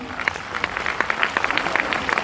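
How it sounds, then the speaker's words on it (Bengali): Audience applause at a company awards event for top performers, a short burst of many hands clapping in quick, dense, irregular rhythm, fairly close and steady for the whole moment. "তো আমাদের কোম্পানির জন্য একবার জোরদার হাততালি"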